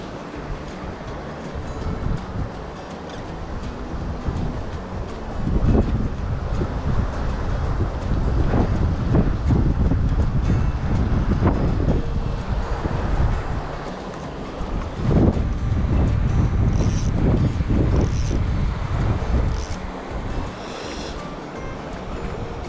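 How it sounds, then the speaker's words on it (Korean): Sudden strong wind gusting through a mountain valley in Jeongseon, Gangwon-do, beside a stream where wild trout are fished, roaring loudly into the microphone in buffeting surges with no talk. "바람이 갑자기 터졌어"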